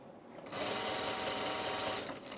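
A sewing machine runs steadily for about a second and a half, stitching a tiny French seam on a tunic. It sits close and moderately loud with a rapid even whir, and no one talks.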